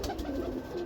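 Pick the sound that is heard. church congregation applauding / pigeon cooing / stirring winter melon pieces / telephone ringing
pigeon cooing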